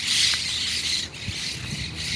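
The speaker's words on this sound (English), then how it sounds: "Oh wow, those are parrots, y'all." Green parrots squawking outdoors, harsh shrill calls rising over a steady background wash, moderately loud with a few lower bursts mixed in, no talk.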